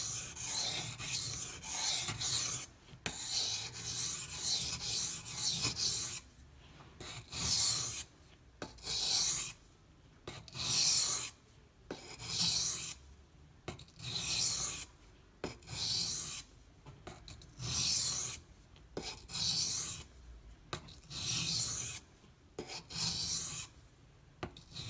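Finishing strokes of a knife blade on a Gritomatic silicon carbide sharpening stone, close rhythmic rasping in repeated bursts separated by short pauses, with no speech.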